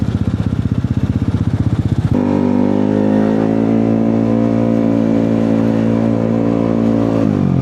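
A Yamaha NMAX scooter ridden through road traffic: a rapid pulsing engine putter for about two seconds, then a smooth, steady droning engine note that holds loud and close until the end.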